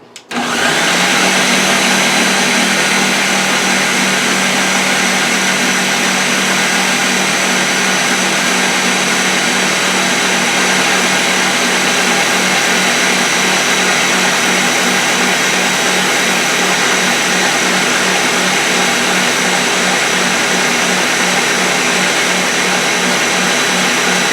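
A Ninja blender mixes lemon pound cake batter, a loud, steady motor whine starting abruptly and running continuously without pause, close and dominating everything else.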